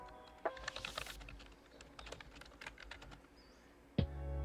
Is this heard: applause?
no